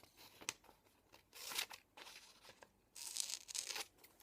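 Paper cutting and tearing as a magazine page is trimmed around an image, with crisp crinkling snips and rips in several bursts, the longest near the end, close and fairly quiet.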